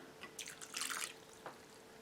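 Cold water splashing into a pastry dough mixture in a bowl, a brief quiet pour with a few small drips and a short trickle, heard alone.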